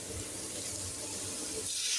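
A little water is poured into a cooking pot of Ethiopian spiced sauce with onion and garlic, a quiet, steady trickling wash that runs for the whole two seconds.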